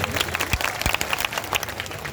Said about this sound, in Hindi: यूपी की बिटिया के लिए जोरदार तालियां बजाइए